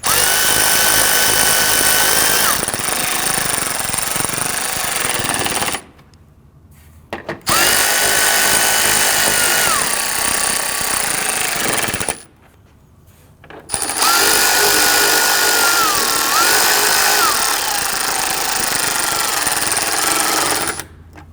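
A power tool whirs loudly in three long bursts, separated by brief pauses, while bolts are snugged down on the front bumper cover of a 2010-2019 Ford Taurus.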